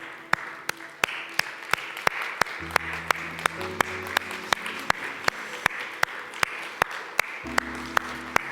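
A church congregation claps together in praise, sharp hand claps ringing out in a steady, even rhythm with low sustained tones beneath, fairly quiet and without talk.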